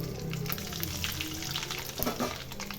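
Mustard seeds dropped into hot oil in a pan, giving a steady soft sizzle with faint crackles and pops, heard alone without talk.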